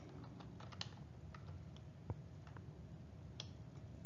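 Scattered, quiet keystrokes on a computer keyboard in an irregular rhythm while a chart title is edited, close and faint over a low background hum.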